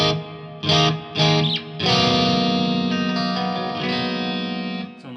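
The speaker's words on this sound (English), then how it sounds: "Turn a little reverb on here." Strandberg Boden electric guitar played through reverb on a hall setting: a few short strummed chords, then a held chord ringing out and slowly decaying with a washy tail, loud and close with no voices.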